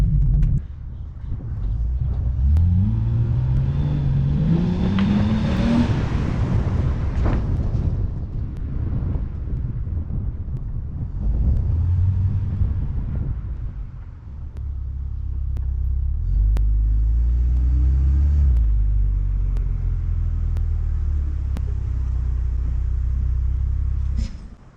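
A 2004 BMW 325i E46 with a newly replaced transmission drives and pulls in to park, its engine rumbling loudly near the microphone with rising revs as it accelerates and shifts, then idling under buffeting wind noise.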